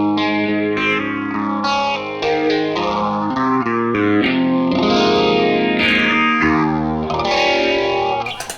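An electric guitar plays chords and notes through a phaser on a NUX Amp Core Studio and NUX Cerberus rig, its sweeping, whooshing tone rising and falling continuously, loud and upfront.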